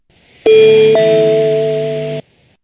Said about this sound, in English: We have our ascending chime,